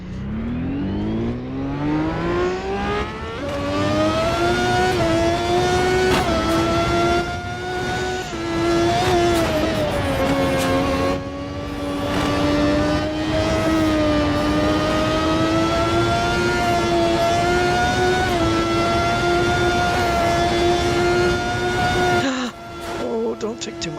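Simulated truck engine in Euro Truck Simulator revving up and down as gears are shifted, a loud steady drone with rising and falling pitch sweeps, with a voice talking over it.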